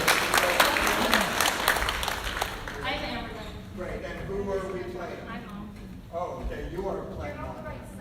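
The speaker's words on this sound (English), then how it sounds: "It's getting one more round of applause." An audience at a legislative theatre event applauds loudly for a few seconds, then the clapping thins and fades as people start talking over the tail end.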